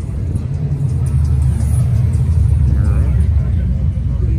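Deep, steady low rumble from a Dodge Challenger 440 Six Pack R/T muscle car cruising at a street cruise night, with crowd chatter and background traffic mixed in.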